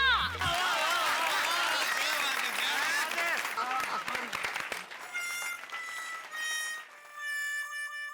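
A festival audience claps for several seconds, a dense loud burst of applause at a Ganesh celebration in a housing society courtyard, fading out as music takes over.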